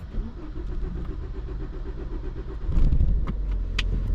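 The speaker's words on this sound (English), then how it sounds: "The crank was long, but the car started up." A car engine cranks for several seconds in a steady, rhythmic churn before catching and starting, the start bursting louder into a rough, running rumble.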